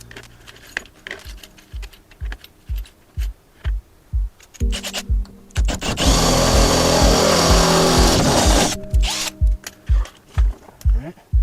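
A drill works through the sheet-metal body of a Transit van, stepping up through bigger bits: short bursts of drilling alternate with rhythmic clicks, then a sustained loud whirring run in the middle before the short bursts resume.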